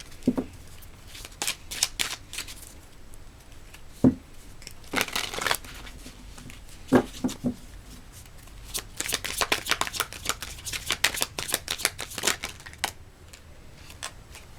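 Tarot cards being shuffled in repeated bursts of riffling and flicking, close and fairly loud with short pauses between runs and no talking.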